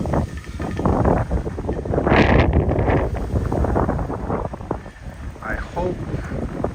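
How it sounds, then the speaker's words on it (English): Strong wind buffeting a handheld microphone on an outdoor morning walk in Tokyo, a loud continuous roar and rumble that gusts and swells, with a person's voice partly audible under it. "I hope the sound of the wind is not taking over everything."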